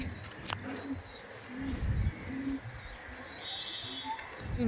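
Madrasi pigeons give low, soft cooing calls in short bursts, fairly close, against a background hum with a few faint clicks and no speech.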